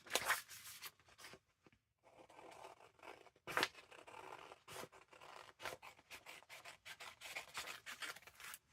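Scissors cut out paper for a junk journal page, with quiet, close snips and rustling coming in irregular bursts separated by short pauses.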